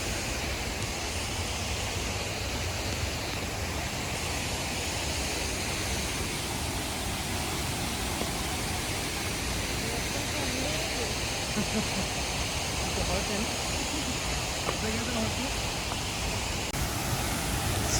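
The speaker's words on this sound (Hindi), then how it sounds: "beautiful waterfall and look at this" Harvalem waterfall in Goa roars with a dense, unbroken rush of falling water, loud and close throughout, with a voice talking faintly beneath it.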